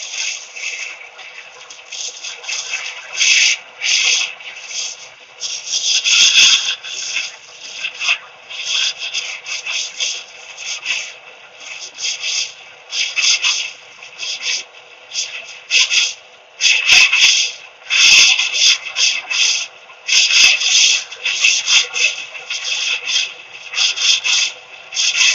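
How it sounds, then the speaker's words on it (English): Close-up hand sanding with 80 grit sandpaper makes a loud, steady, raspy rubbing in repeated back-and-forth strokes that continue almost without a break. "Of course, it's 80 grit, so it's going to take it down pretty quick."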